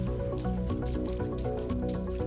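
Water splashing onto a Realme C75 phone, a quick series of wet drips and squishy splashes repeating densely throughout, close and fairly loud.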